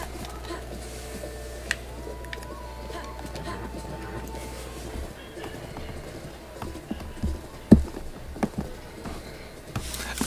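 Horse hooves clip-clop with the rider mounted, a low continuous rumble giving way to uneven knocks and a few sharp close hits, with talking through much of it.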